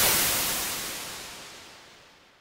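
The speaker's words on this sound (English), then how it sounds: "Nonetheless, we associate a typical sound with lightning." A lightning effect built from white noise: a loud burst of broadband hiss that starts at full strength and steadily decays, darkening as it fades over about two seconds.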